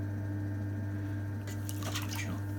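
Water splashing and trickling onto wet clay on a potter's wheel while a large pot is thrown: a short burst of splattering liquid about halfway through over a steady low motor hum, close and fairly quiet.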